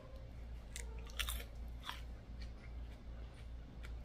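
Cooked grasshoppers bitten and chewed up close: sharp crunches followed by soft, irregular chewing over a low background hum, with no talking.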